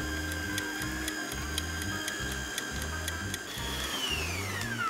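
A Bosch Optimum stand mixer kneading yeast dough with its hook, a steady motor whine with high tones and a regular rhythmic thumping as the dough turns, close and continuous, the pitch shifting near the end.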